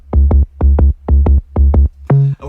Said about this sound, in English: It's a sine wave with a little bit of a punch kick attack to it.